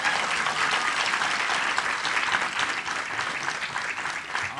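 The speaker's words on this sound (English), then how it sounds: "Let me hear your hand clap." Sustained applause from an evening audience at a library author talk, dense hand clapping filling the room at a steady loud level throughout with no voices over it.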